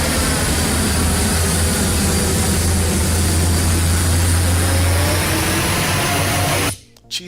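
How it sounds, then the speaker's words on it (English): Airbus A330neo jet engines roar in the X-Plane 12 flight simulator, a very loud, dense, steady roar with a deep low hum and high whine that cuts off abruptly near the end. "Jesus, plane is loud."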